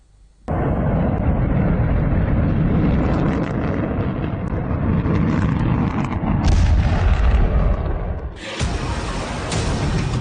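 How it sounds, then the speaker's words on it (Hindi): A loud, sustained roaring rumble of a Chinese rocket suddenly swells, followed by heavy booming blasts and a crackling burst near the end as it crashes to the ground and explodes. "चाइनीज रॉकेट पटाखे की तरह आसमान से जमीन पर गिर पड़ा।"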